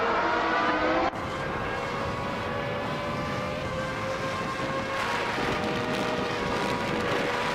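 Race car engines in a racing video game, a Benetton B195 among them, with a steady high-pitched drone that cuts abruptly early on, then continues with shifting engine tones and swelling passes.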